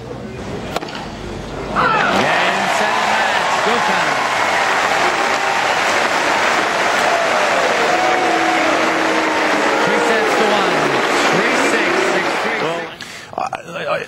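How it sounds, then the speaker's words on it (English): Wimbledon tennis crowd booing, a sustained broad roar of many voices swelling from about two seconds in and holding steady, with rising and falling vocal tones threaded through, before dropping away near the end. "it sounds like they might be booing there"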